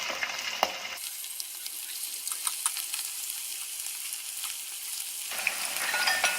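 Marinated chicken pieces hit hot oil, bursting into a loud, dense sizzle that holds steady with scattered pops and spits, close up and alone, then shifts near the end as the pan is moved.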